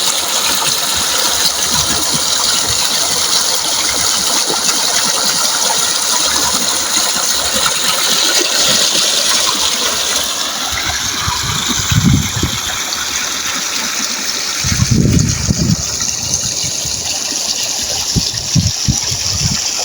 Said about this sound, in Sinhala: ඔන්න ඔය විදිහට තමයි ඉතින් වතුර බැහැගෙන යන්නේ ඉතින් මේ ආරේ.